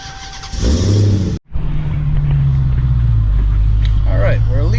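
An engine cranks briefly, stops for a beat, then catches and settles into a loud, steady idle, heard close from inside the car, fitted with a K&N drop-in air filter.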